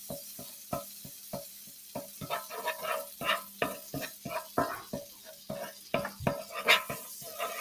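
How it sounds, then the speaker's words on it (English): Wooden spoon scraping and tapping in a skillet of melting margarine, rhythmic strokes roughly every half second over a faint sizzle, close and fairly quiet. "I use a wooden spoon to stir."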